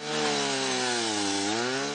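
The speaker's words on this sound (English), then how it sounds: "uses this drill to extract permafrost" A motorized drill bores into frozen Arctic permafrost ground in Alaska, producing a loud, steady engine whine with a dipping pitch midway and no talking.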